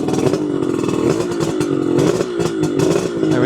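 A 1976 Kawasaki KH400 Mach II motorcycle engine running loud and close after a kick-start, with a buzzy, uneven two-stroke burble and small rises in revs.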